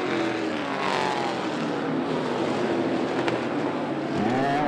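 Street stock race cars roar around the track at 411 Motor Speedway, a dense, continuous engine drone filling the whole stretch with faint pitch shifts as cars pass, loud and unbroken.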